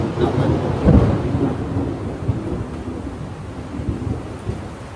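Thunder rolls through a night-time rainstorm, with a loud rumble near the start and lower rumbles continuing over steady rain and some wind.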